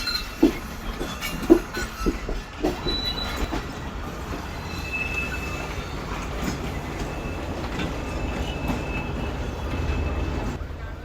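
The rake of the 8 Down Tezgam rolls along the washing line at Karachi Cantt railway station, with rhythmic wheel clacks and thumps early on, thin wheel squeals, and a steady rumbling drone throughout.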